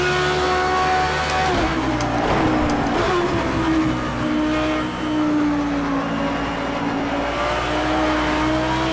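A GT3 race car engine in Project CARS 2, loud and continuous, revving and shifting with rising and falling pitch as the car accelerates and brakes, with a brief tire squeal.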